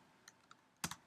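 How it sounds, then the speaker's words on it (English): Soft, quiet computer keyboard typing: a few light scattered keystrokes followed by a quick pair of louder clicks, heard alone in a still room. "let's go up to the address bar and we will type in"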